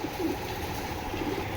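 Low, throaty cooing from a pair of big-bodied racing pigeons kept close by, soft repeated coos over a steady background hum.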